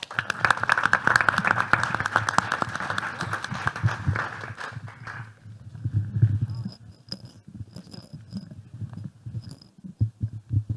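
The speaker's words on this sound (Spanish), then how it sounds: "Vamos a recibirles con este aplauso." Audience applause welcoming the speakers of a workshop, a dense patter of clapping for about five seconds that fades, followed by low murmuring voices, faint tapping and handling sounds.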